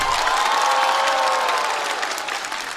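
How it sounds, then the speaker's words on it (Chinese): A studio audience at a stand-up comedy show applauds with dense, sustained clapping and some cheering, loud at first and easing slightly toward the end. "掌声送给岛主"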